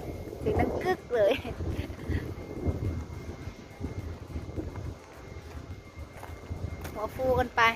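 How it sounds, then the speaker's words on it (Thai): Strong wind sweeps across a wind turbine field in Thep Sathit, Chaiyaphum, in cold weather, buffeting the microphone in uneven gusts while someone talks over the roar. "จะไม่ปิดเสียงนะคะให้ได้ยินเสียงลมเลย"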